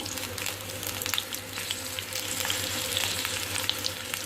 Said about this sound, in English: Now fry till the blisters form on all the chilies.